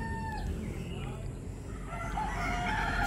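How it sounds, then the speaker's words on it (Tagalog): Roosters crow loudly close by among a large flock of chickens on high ground in South Cebu, the crowing rising over a constant background of clucking and farmyard noise. "Ang daming manok. Yung manok nila guys."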